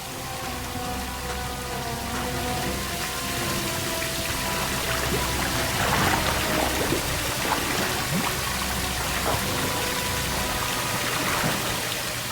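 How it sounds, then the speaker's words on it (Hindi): Water runs and splashes steadily, heavy and continuous like a strong spray or pour, fairly loud and close with no voices. "पानी बंद करो।"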